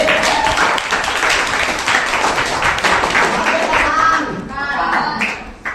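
Children clap together in a classroom, a dense steady patter of applause lasting several seconds, close and fairly loud before tapering off near the end.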